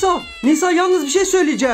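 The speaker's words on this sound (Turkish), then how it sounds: "O kedi nasıl miyavlıyor?" A cat meows loudly and repeatedly at close range, its cries running almost continuously with a voice speaking over part of them.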